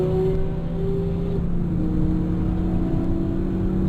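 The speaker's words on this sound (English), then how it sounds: "So in fifth, just accelerating, just slight turn to the left." A car in fifth gear accelerates along a near-straight stretch of the Nurburgring, its engine a steady, loud, rising drone heard from inside.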